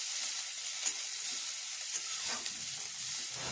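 Panch phoron and chopped onion frying in hot oil in a pan for a Bengali rui fish curry, giving a steady close sizzle with a few soft stirring crackles and no talk.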